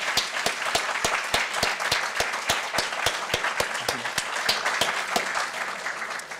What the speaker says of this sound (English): Could we give both the speakers and everyone involved in today's event a big round of applause